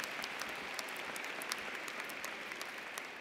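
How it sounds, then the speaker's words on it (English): Sustained audience applause at a university commencement ceremony, a dense, even wash of many hands clapping at a moderate distance, steady throughout with no voices over it. "that deserves a clap"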